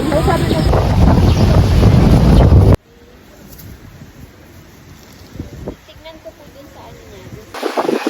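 Loud, blustery wind roars against the microphone for a few seconds, then cuts to quieter outdoor noise with faint voices before gusting again.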